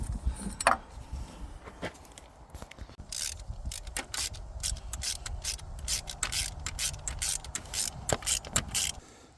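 Ratchet clicking in short, irregular bursts while a spark plug is worked loose from the engine of a 1986 Pontiac Firebird, close up, with rubbing and scraping between the clicks.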